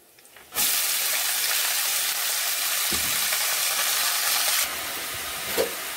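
Leafy greens hit hot tempered oil, setting off a sudden loud, close hissing sizzle that holds steady for several seconds, then eases slightly, with a faint clink near the end.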